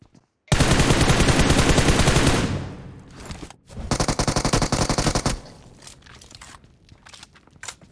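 Loud automatic gunfire in PUBG Mobile, a long rapid burst followed by a second shorter burst, then quieter scattered shots and movement noise trailing off.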